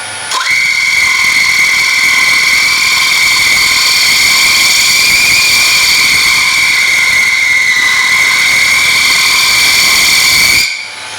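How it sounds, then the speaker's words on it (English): Wood lathe spinning at about 1200 RPM while the fine wheel of a Hope texturing kit works the outside rim of a bowl, producing a loud, steady whirring drone with a high whine that starts abruptly and stops near the end. "we're going to finish with some running texture on the outside rim, just with the fine wheel of the Hope texturing kit"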